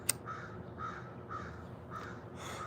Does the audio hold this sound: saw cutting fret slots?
no